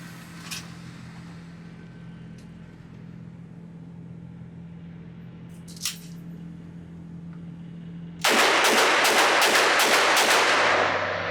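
A Colt Anaconda .44 Magnum revolver fires rapidly at an outdoor range, six loud closely spaced shots in a quick burst after a quiet stretch of low hum and a couple of faint distant pops.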